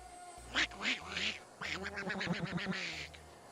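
Several raspy, nasal quacks in quick succession, close and fairly loud, with a steady low hum underneath.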